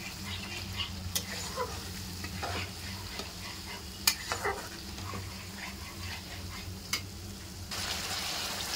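Yogurt being stirred and fried into a fish curry masala in a pan, with a steady low sizzle and a few sharp spoon scrapes against the pan, no talking.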